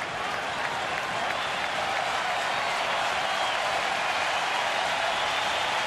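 Sellout baseball crowd at a Phillies home game applauding and cheering pitcher Roy Halladay, a dense sustained wash of clapping and crowd noise holding steady throughout.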